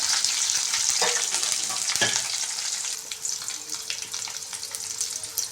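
A tomato roast with onion, curry leaves and chillies fries in a pan, a steady soft sizzle with a few sharp scraping stirs early on, moderately quiet and close, with no voices.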